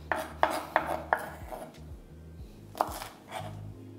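A knife chops yardlong beans on a board for a fish-head chhyachra: a quick run of sharp, close taps, a pause, then a few more cuts. No one speaks.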